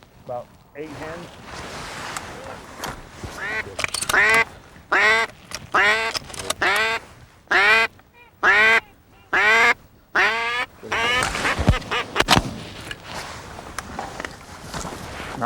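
Mallard ducks quack in a long rhythmic series of loud, nasal bursts during a duck hunt on the water, with wind and quiet voices in the background.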